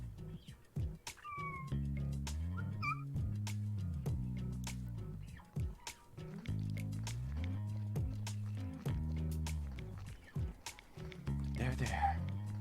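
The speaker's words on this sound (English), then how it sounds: "You can pet the cat." A pet cat in the video game No More Heroes meows several times, close and clear, over a looping background music track with a heavy rhythmic bass line.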